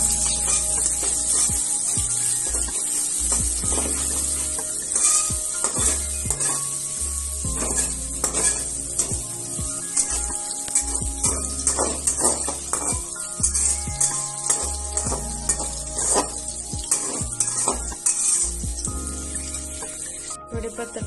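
Onion fries in a pan with a continuous close sizzle and hiss, joined by frequent scraping and clinking stir strokes against the pan.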